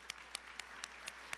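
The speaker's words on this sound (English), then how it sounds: "Let's give them a round of applause" Sparse, evenly spaced single claps ring out at an MLK memorial breakfast award presentation, about six distinct hand claps in a quiet room rather than a full ovation.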